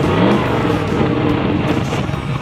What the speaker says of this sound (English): Fucking loud, no exhaust yet.